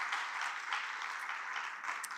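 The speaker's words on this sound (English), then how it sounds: "A round of applause for the faculty of CDI-Africa." Audience applause for the faculty at a graduation ceremony, a steady wash of clapping from a crowd heard at a moderate distance, holding even for a couple of seconds.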